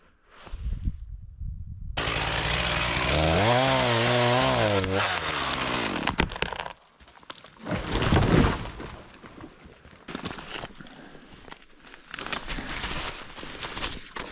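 A chainsaw cuts into a tree beside a powerline, starting with a loud sustained whine that wavers under load and then breaks into choppy bursts and cracking noises as the cut continues.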